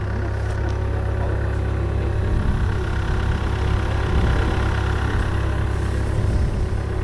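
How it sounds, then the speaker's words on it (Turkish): A tractor engine runs steadily in a village, a loud low continuous idle-like throb close by with no breaks throughout. "Traktör çalışıyor sanki."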